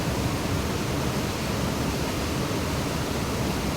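Fast river rapids rush at a fishing spot, a dense, steady broadband roar of churning water filling the scene without pause or voices.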